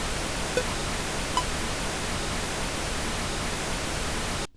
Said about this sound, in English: and I'm going to put on the pink noise.